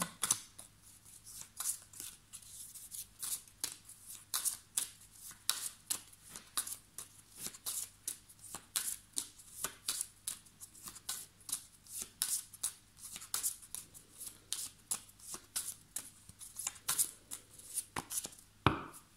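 A deck of tarot cards being shuffled by hand, repeated quick riffling bursts and soft slaps in an uneven rhythm, close and fairly quiet, with no talk.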